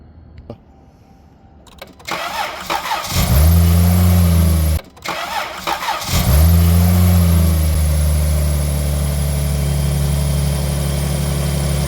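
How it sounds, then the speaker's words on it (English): A car engine cranks briefly, catches, then settles into a steady loud idle after a short stop and second start, running continuously and close by with no talk. "So engine is running."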